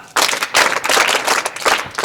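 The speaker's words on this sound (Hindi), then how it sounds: "एक साथ धन्यवाद, ताली बजा" A group of Scouts and Guides at the Mahakumbh 2025 gathering in Prayagraj breaks into clapping, loud bursts of many hands with brief dips between surges, close and lively.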